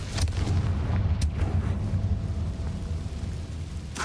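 A Confringo blast spell goes off in Hogwarts Legacy, sharp cracks at the start and around one second, then a heavy rumbling roar that lingers and fades, ending with another crack.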